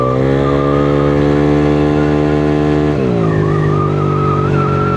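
A motorcycle engine under light throttle holds a steady high hum, then the pitch drops and settles at a lower tone partway through, loud and close with no talk.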